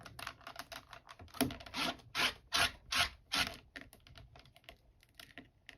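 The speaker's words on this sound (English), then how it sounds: "I'm just going to wipe this off with my Lawn Fawn chamois." A stamping tool being wiped with a Lawn Fawn chamois, quick soft rubbing swipes in a rapid irregular rhythm, some strokes louder and longer, close up with no talking.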